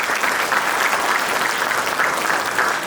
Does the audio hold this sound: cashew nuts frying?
no